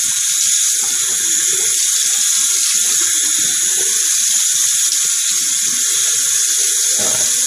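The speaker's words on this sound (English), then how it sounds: "You're going to hear some background noise with the water" Steady running tap water fills the clip from start to finish, a continuous hiss heard at the sink while a man washes his face with a mild cleanser during a shave routine. There is no talking.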